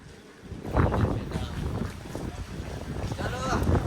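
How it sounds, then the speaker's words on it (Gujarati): Cold wind gusts across Pavagadh hill in fog, a steady rushing buffet against the microphone that rises after the first half-second and persists, with people talking over it. "કેવો ઠંડો પવન આવે તો"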